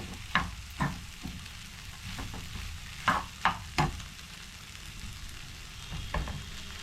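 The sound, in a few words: mixing vegetable cutlet mixture in a pan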